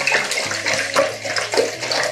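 Liquid pours steadily with a bright fizzing hiss, bubbly and close, with a few gurgling blips along the way and no talking.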